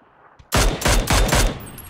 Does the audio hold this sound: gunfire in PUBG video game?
yes